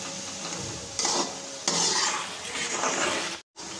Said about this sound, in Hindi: गोश्त को डाल के हम इसको मसाले में अच्छी तरह से भून लेंगे।